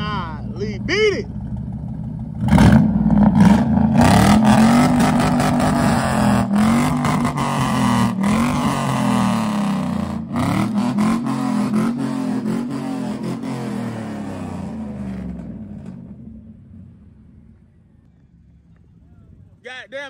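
A loud truck engine cranks, fires up and revs hard through a loud exhaust, a close, rough roar that rises and falls for several seconds before easing off, with people talking over it.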